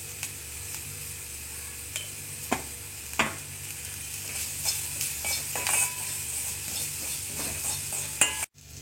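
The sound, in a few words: vegetables sautéing in coconut oil with curry leaves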